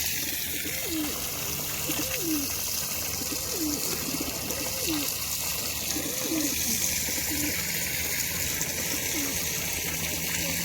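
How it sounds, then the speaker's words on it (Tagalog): Several pigeons coo in repeated soft rising-falling calls at a steady rhythm, moderately near, over a constant outdoor hiss in a Lebanese garden with olive trees. "maingay yung mga kalapati"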